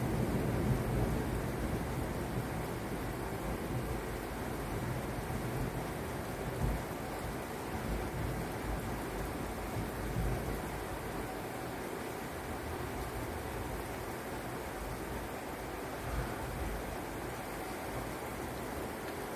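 Steady heavy rain pours down continuously during a thunderstorm in Fischborn, a dense hissing wash with low rumbling thunder beneath it, the downpour holding an even loudness throughout.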